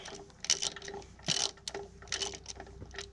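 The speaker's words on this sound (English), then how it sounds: "I've got to take these bolts out." Ratchet taking bolts out of a Massey Ferguson 675 tractor engine head, several short bursts of rapid metallic clicking at close range with a faint steady hum beneath.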